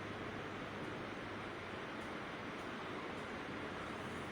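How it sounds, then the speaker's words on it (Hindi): Mutton for Peshawari-style namkeen gosht fries in a pan, giving a steady, even sizzle that stays quiet and continuous with no voices. "इस तरह इसको हमने फ्राई करते जाना है।"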